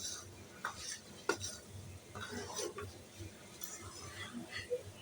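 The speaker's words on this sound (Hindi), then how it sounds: "सूजी को डालने के बाद ना आपने चम्मच लेकर इसको अच्छे से भून लेना है" Spoon stirring and roasting semolina in a pan for suji halwa, with soft scraping clinks and faint sizzling at a moderate, irregular pace, quiet and close.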